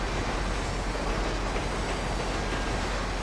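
A train rolling past on a race track in GTA 5, a loud continuous rumble of wheels on rails filling the whole moment, close and steady with no voices.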